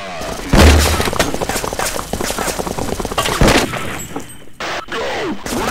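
Heavy gunfire rattles in a dense, rapid automatic burst for about three seconds, loud and close, followed by a few scattered shots as voices call out underneath.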